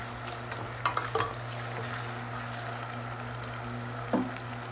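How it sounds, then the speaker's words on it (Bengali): Ginger-garlic paste fries with onion and chili in a pan for a chicken curry, giving a soft continuous sizzle broken by a few quick spoon-scraping stirs. "আর দিয়ে দেবো এক চামচ আদা রসুন বাটা ভালো করে মাখিয়ে নেবো আর একটু ভেজে নেবো এক আধ মিনিট"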